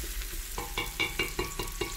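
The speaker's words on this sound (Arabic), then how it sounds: "بعد ما نزلت البصل هسه راح أنزل السلق المقطع وأكمل طبخه أو أطبخه حتى يذبل" Chopped chard cooking with onion in a pot, a rhythmic series of quick stirring scrapes and taps over a soft sizzle, about eight strokes in two seconds.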